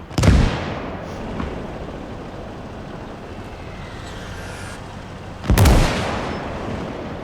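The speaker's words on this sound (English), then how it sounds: "You see that mortar just hit the just hit the mine." Mortar fire in the World War II strategy game Gates of Hell, two loud booming blasts several seconds apart over a steady rumbling battlefield background.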